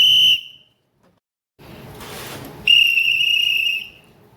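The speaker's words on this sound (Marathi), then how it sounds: "शिट्टी आहे." A whistle found while cleaning a drawer is blown in two shrill, steady blasts, the first short and the second longer, with a quiet gap between them.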